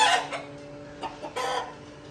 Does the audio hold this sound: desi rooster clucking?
yes